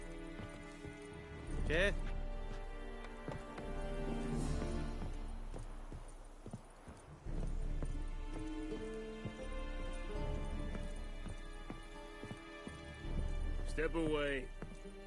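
Hooves of Geralt's horse Roach clip-clop at a walk in The Witcher 3, a soft steady rhythm under background music, while someone speaks briefly.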